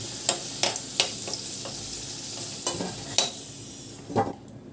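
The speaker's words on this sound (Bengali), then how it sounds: "এই আলু দুটো ভেজে নিয়ে ওপর নিচ করে আলু ভালো করে লাল করে ভেজে নিয়েছি" Potatoes browned in hot oil are stirred and lifted out of the pan, with a light continuous sizzle broken by several sharp clacks of a utensil against the pan.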